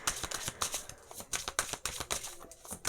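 Tarot cards being shuffled by hand, a run of quick papery riffles and slaps in an uneven rhythm, close and fairly quiet, with no talking.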